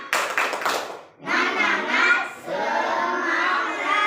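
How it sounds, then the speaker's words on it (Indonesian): A group of schoolchildren and adults clap their hands together after a school waste-processing activity, a short burst of claps, then a pause and a longer round of clapping with children's voices mixed in, close and fairly loud. "tepuk tangan semua"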